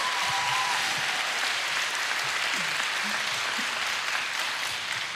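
Audience at a festival concert in Rzeszów applauds with dense, sustained clapping filling the hall for several seconds, a few faint voices mixed beneath it.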